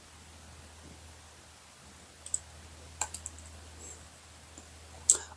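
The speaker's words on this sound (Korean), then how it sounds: "마우스 우클릭을 해야 되네요." Quiet room tone with a low hum, then a few sharp, light clicks scattered over several seconds from a computer mouse being right-clicked.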